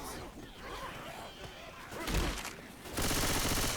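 Gunfire in the zombie shooter game Left 4 Dead 2: dense bursts of shots, a heavy thump near the middle and a sustained loud volley at the end, mixed with game noise and some voice.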